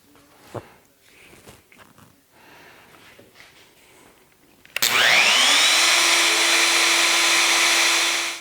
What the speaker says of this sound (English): So there's the mortises cut with the dual edge guide set up on the router.